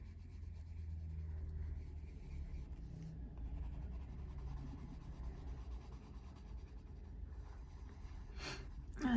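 Colored pencil in cold grey 234 shading a drawn wheel on a page, a faint, close, continuous scratching rub over low background rumble, ending with a slightly louder scrape.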